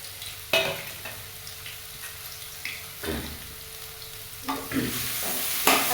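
A freshly ground paste of garlic, ginger and green chilies fries in a pan, with a low background sizzle broken by a few loud, scraping stirs spaced about a second or two apart.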